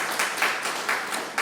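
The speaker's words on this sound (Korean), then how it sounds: "정영권 사회연대 대표님으로부터 박수 좀 부탁드리고요" Applause from an audience at a Korean political forum, a short burst of steady clapping from many people indoors, fairly loud and even throughout.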